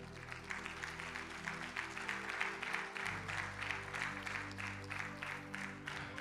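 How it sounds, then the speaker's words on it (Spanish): A church congregation applauds during a sermon, continuous rhythmic clapping at a moderate distance over a sustained low musical hum. "Dale un fuerte aplauso al Señor"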